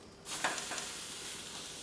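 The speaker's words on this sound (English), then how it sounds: "We're ready to get our tri-tip on and we start over here." Tri-tip steak hitting oiled stainless steel grill grates, a sudden loud sizzle that starts abruptly and holds as a steady hiss.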